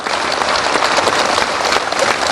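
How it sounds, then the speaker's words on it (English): A large audience applauds continuously at a Nelson Mandela lecture where Barack Obama is speaking, a dense, loud clapping roar that stays even throughout, with no speech over it. "A round of applause"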